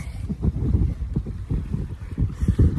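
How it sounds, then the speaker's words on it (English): Strong wind on a cold beach buffets the microphone in loud, uneven gusts, a low rumbling roar that surges and eases with no voices over it. "Oh, it's so windy."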